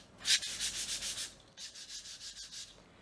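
Hand sanding on a painted wood sign with very light pressure: steady rhythmic back-and-forth rasping strokes, close and fairly quiet, with a brief pause midway before the strokes resume.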